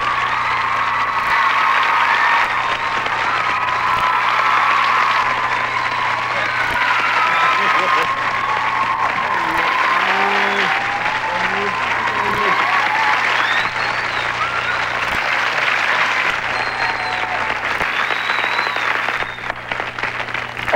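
Sustained studio audience applause welcomes Reverend Jesse Jackson as a guest on the Mickey Mouse Club, a dense, steady wash of clapping with some cheering running throughout at full, even loudness.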